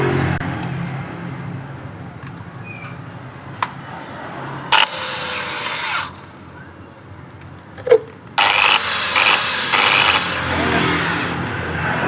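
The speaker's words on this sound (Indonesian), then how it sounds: "jadi ini kita kikis dengan bor kecil ini ya" Short bursts of a small high-pitched drill whir and grind against a motorcycle clutch plate, scraping the metal, starting and stopping several times over a low background hum.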